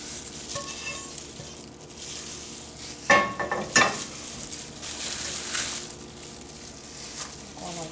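Burrito filling of soft scrambled eggs being stirred and warmed in a frying pan, a low steady sizzle with a couple of sharp utensil scrapes against the pan near the middle.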